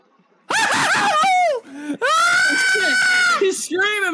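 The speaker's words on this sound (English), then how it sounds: "He's screaming, bro!" A character in a Roblox video game screams loudly and up close, a long wavering shriek followed by a second sustained wail and short squeals.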